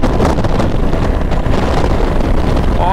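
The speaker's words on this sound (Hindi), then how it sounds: "और आप इसका एग्जॉस्ट साउंड भी सुन सकते हो" Royal Enfield Classic 350 motorcycle (2021 model) at high speed, its exhaust note buried in steady, loud wind rush across the microphone for the whole stretch.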